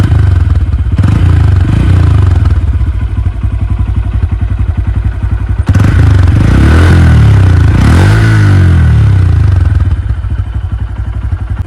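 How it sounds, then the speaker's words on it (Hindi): Exhaust of a Hero Xtreme 125R motorcycle, a close, loud steady idle burble broken by several sharp revs that rise and fall, with a brief clattering scrape partway through. "तो अब सुनो इसका एग्जॉस्ट साउंड।"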